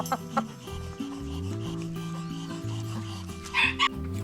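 A small rooster and chickens cluck nearby in short, repeated calls, with a few louder squawks toward the end over faint background rustling.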